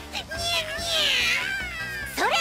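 Several cartoon cats meow in a noisy anime scene, with long, rising and falling cries overlapping one another, loud and close, mixed with brief high voices.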